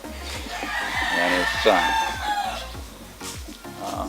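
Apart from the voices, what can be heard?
rooster crowing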